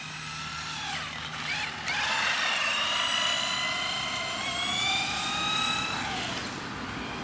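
A vintage Kyosho Turbo Optima Mid Special RC car with a 48-pitch spur and pinion runs nearby, its electric motor whining steadily and rising and falling in pitch as it accelerates and slows, with no talk.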